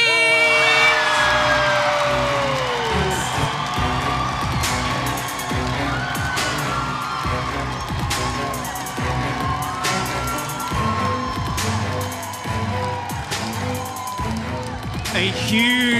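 A loud, roaring crowd cheers and whoops at the Miss Earth 2015 coronation night as the Philippines is announced. Voices and hall sound mix into the dense, sustained cheering throughout.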